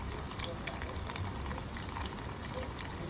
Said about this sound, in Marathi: 5 ते 6 मिनटामध्ये हे असे बबल्स येतात आणि आवाज येतो